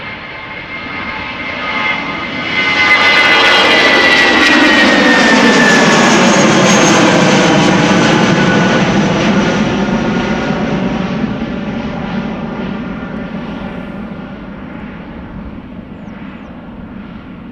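A British Airways jet airliner departs Amsterdam Schiphol for London Heathrow, its engine roar building to a loud, sustained peak with a whining tone, then slowly fading as it climbs away, with no voices.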